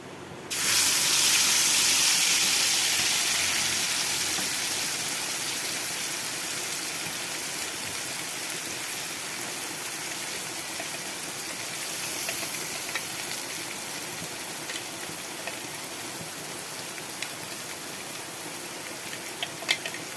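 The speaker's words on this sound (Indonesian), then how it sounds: "Setelah minyaknya panas, kemudian tuangkan bumbu yang sudah dihaluskan tadi." Ground spice paste for sambal kecombrang hits hot frying oil with a loud burst of sizzling that settles into a steady, hissing fry, swelling briefly again midway as it cooks.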